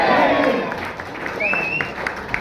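Audience clapping at a Madara Chennayya stage event on Ambedkar's childhood, a steady wash of applause that fades slightly midway, with a voice speaking over it.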